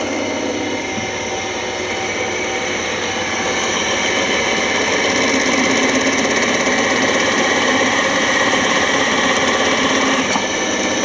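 An old drilling machine runs continuously at close range, a loud steady mechanical whir and hum with a slight shift in tone partway through as it drills.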